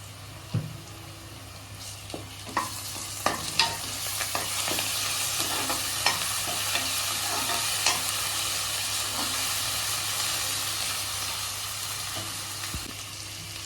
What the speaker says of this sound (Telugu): ఆనియన్ ఆయిల్లో ఫ్రై అయిపోయింది